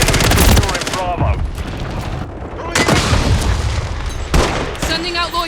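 Shooter video game combat with rapid automatic gunfire bursts and heavy booming explosions, loud and continuous throughout, with dense overlapping shots and game voice callouts mixed in.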